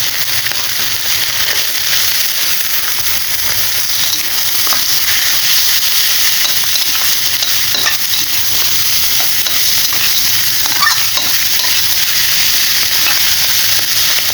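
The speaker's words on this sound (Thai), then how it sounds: "น้ำมันเดือดแล้วเราก็มาใส่ หนังเป็ดทอดกันเลยครับ" Loud, continuous sizzling of sliced duck skin frying in hot oil, a dense steady crackle and hiss close up with no talking.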